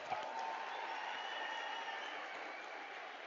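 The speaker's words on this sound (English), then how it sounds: "Can we give them a round of applause?" Crowd applause at a University of South Africa autumn graduation ceremony, a sustained even clapping with faint cheering mixed in, heard from a distance and fairly quiet.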